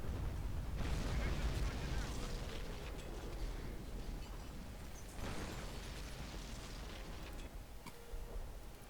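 Artillery barrage in the strategy game Company of Heroes: rolling, overlapping explosions and distant booms in two heavy waves, with in-game voices speaking in between.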